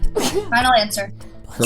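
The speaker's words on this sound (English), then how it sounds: "I apologize for my sniffling and sneezing." A person who is sick sneezes once, a sharp burst near the start, surrounded by close conversational speech.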